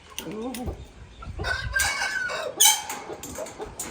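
Roosters crow and hens cluck close by, several overlapping calls rising and falling over a few seconds, with faint background noise.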